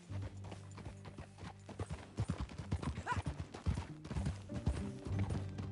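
Horse hooves clip-clop close by in an uneven, plodding rhythm that grows busier and louder partway through.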